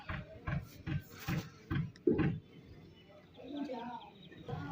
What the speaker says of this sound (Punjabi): ਤੇ ਕਬੂਤਰਾਂ ਦੀ ਫੈਮਿਲੀ ਆ ਬੈਠੀ